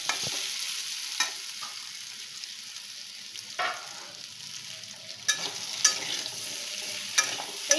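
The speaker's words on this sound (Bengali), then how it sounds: "এটাকে একটু ভাজা ভাজা করে নেব দেখুন আলুটা একটু ভাজা ভাজা হয়ে গেছে" Potatoes frying in a pan for a drumstick-potato poppy-seed dish give a steady low sizzle, broken by sharp scraping clicks as they are stirred and turned.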